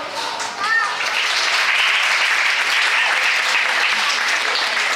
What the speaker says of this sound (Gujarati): તો પોતાના માટે તાળીઓ પાડવી જોઈએ આપણે।